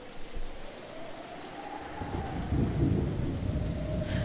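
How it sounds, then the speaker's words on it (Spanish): Steady heavy rain with rolling thunder from the Umineko no Naku Koro ni visual novel game, a deep rumble swelling louder in the second half over constant hiss, no voices. "la lluvia caía en serio."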